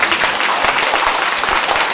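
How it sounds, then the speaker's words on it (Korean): Audience applause at a university speech contest for international students speaking Korean, a dense, steady wash of many hands clapping loudly and continuously without pause. "다시 한번 큰 박수 부탁드립니다."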